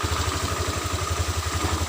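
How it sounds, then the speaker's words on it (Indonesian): A Honda Vario 125 scooter with a fault that makes it creep forward without throttle idles at low RPM, its engine putting out a steady, close, rhythmic low chug that stays even throughout. "Harusnya RPM rendah seperti ini dia posisinya netral ya."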